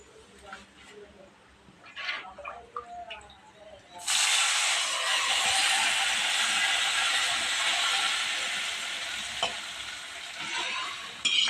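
A fried tempering is poured into raw tamarind soup made with peanuts. After a few seconds of quiet clatter and faint speech, it bursts into a loud, sustained sizzle that slowly fades.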